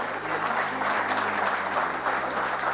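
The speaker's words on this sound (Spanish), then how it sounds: "fuerte el aplauso para Juan José también" A crowd claps for a prize winner at the 10th Colsecor gathering, a dense, steady wash of applause held at an even level throughout, with a faint low hum beneath.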